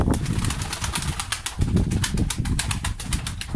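Pigeons flap their wings inside a coop, a dense run of rapid fluttering beats that goes on without a break, loud and close, with no voices over it.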